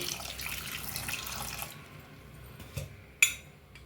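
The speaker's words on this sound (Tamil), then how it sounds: "கொஞ்சமாக தண்ணி சேர்த்து" Water runs and trickles into a pot holding washed fig (athikkai) pieces, followed by a couple of small clinks and a sharp tap of metal near the end.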